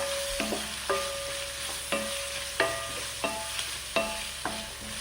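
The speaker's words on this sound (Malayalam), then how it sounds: "സവാളയും ചെറിയ ഉള്ളിയും ചേർത്ത് കൊടുത്തു, പച്ചമുളകും. അപ്പോൾ ഇത് നന്നായി ഒന്ന് വഴറ്റിയെടുക്കാം" Onions, shallots and green chilies sautéed in a pan for pepper chicken curry: a soft steady sizzle punctuated by about eight sharp, ringing spatula strikes against the metal pan at a regular pace.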